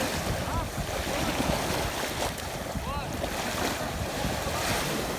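Sea waves wash continuously at a beach, a steady surf roar mixed with gusty wind buffeting the microphone, with no clear individual breaks standing out.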